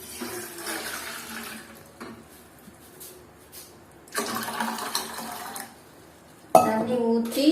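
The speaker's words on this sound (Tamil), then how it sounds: "ஒரு பாத்திரத்தை எடுத்து இதுல கொஞ்சம் தண்ணி ஊத்திக்கலாம்" Water is poured into a pot in two short streams with quiet pauses between, followed by a loud metallic clatter of cookware.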